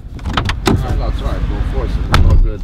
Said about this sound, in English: Just hear what it takes to close this door.